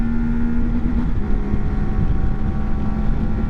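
A CFMOTO Ibex 450 twin-cylinder motorcycle engine revs high and holds against its 9,500 rpm fuel cut, a loud steady drone with a sustained tone, mixed with wind rush while riding.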